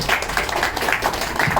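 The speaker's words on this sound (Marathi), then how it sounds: "जोरदार एकदा टाळ्या सुरुवातीला" Audience clapping at a Marathi music program, a steady burst of many hands spread across the whole moment, close and fairly loud with no voices over it.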